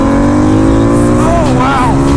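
A car approaches during a race-day garage session around a turbo Harley V-Rod, its rising engine note loud and close over a steady background drone and sweeping pitch.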